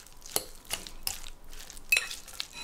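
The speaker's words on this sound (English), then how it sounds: "Give it a stir." Avocado being stirred into guacamole ingredients in a bowl gives a handful of quiet, separate utensil scrapes and soft squelching clicks, close and faint with short pauses between strokes.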